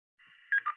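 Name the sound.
repeater courtesy tone beep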